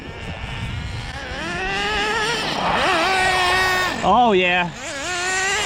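A Team Losi XXX-NT RC car with an OS 12CV nitro engine on 30% nitro fuel screams around a parking lot, its whine rising and dipping with sharp revs. Someone briefly speaks over it.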